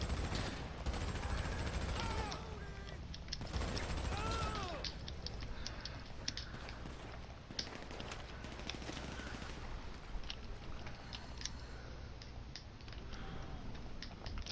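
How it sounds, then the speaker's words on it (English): GTA 5 gunfire on a yacht mission rings out as a quiet, distant rattle of scattered shots and short volleys behind a steady background wash, with sharp high chirps mixed in. "Hey, I got people shooting me."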